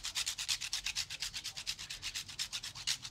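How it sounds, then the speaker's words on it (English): Horseradish root rubbed against a hand grater in a kitchen, giving a steady run of about twenty rhythmic rasping strokes, close and fairly quiet, with no talking. "You look, use a grater"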